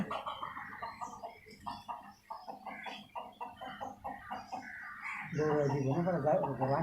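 A white rooster gives a rapid run of close, repeated clucks in quick bursts, then breaks into a louder, sustained crowing call at the end.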